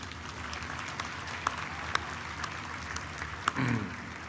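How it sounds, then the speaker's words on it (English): Steady crowd applause at a university convocation ceremony fills the space, a dense even patter of many hands clapping, with a few sharper claps standing out near the end. "Please join me to applaud our parents."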